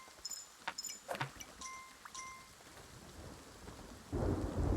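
Rain and thunder in the video game Kingdom Two Crowns: soft steady rain under light chimes and clicks, then a deep rolling thunder rumble swells near the end.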